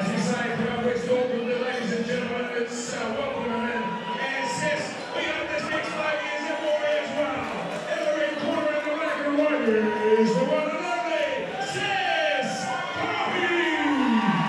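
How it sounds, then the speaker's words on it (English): Boxing crowd at ABA Stadium roaring during a Sese Tohi versus Joel Rea fight, a dense, sustained wall of cheering and shouting with a commentator talking over it. "Man, that crowd is just absolutely going wild."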